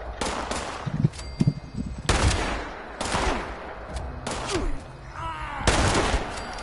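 Repeated gunfire in Fallout 76, loud rifle shots and short bursts spaced irregularly, each with a ringing echo tail, close to the listener and mostly free of talk.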